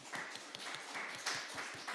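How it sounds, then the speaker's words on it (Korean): A church congregation at a Sunday Advent service clapping to welcome one another, a faint, steady patter of many hands in a reverberant hall, with a soft voice briefly audible. "우리 옆에 있는 분들을 좀 박수로 환영했으면 좋겠습니다."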